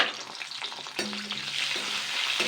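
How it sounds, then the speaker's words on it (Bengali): Potatoes fry in hot oil seasoned with salt and turmeric, giving a steady close sizzle with stirring scrapes and a louder burst of frying about a second in; no one speaks. "এবার জাস্ট আলুগুলো হালকা করে ভেজে নেবো"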